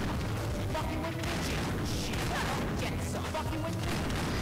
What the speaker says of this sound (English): How are they shooting through the floor?